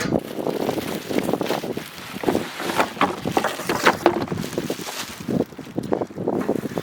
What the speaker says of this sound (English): after this wind stops